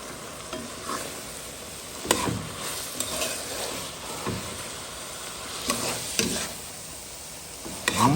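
Brinjal masala with swordfish sizzles in a cooking pan while a spoon stirs it, giving irregular scraping knocks over a constant frying hiss, close and moderately loud.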